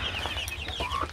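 Black hen chicks, all female, cluck and cheep in a close, lively chorus with overlapping high peeps and soft clucks, no voices over them.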